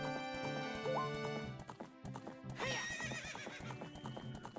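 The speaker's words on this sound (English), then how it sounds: "This is a good horse." Epona, the horse in Zelda: Ocarina of Time, gives a rising whinny over clip-clopping hooves, all set against steady game music with a second neigh near the end.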